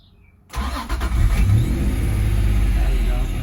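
A Honda S2000 engine cranks briefly after a near-silent moment, then catches and settles into a steady, loud idle close to the listener.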